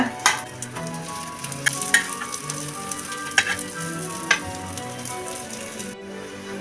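Egg bhurji puffs frying in oil in a pan, a steady close sizzle with sharp pops and crackles scattered throughout, ending abruptly near the end.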